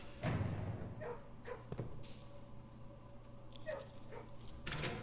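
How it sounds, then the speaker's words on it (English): Puppies whimper in the video game Blue Prince, with faint yelps and soft thuds over a steady low game hum, quiet and somewhat distant. "I hear the puppies."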